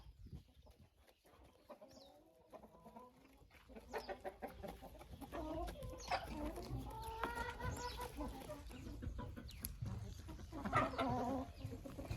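Chickens cluck in a coop while one hen scratches and treads over vegetables, giving a mix of close, scattered clucks and murmuring calls that grow busier toward the end.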